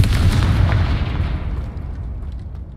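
A Confringo fire spell explodes in the video game Hogwarts Legacy, a loud, heavy booming blast that rolls and decays over about three seconds, with no talking.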